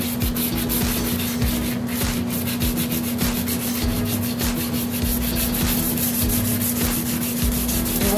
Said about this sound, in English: If I feel any spots, I keep sanding.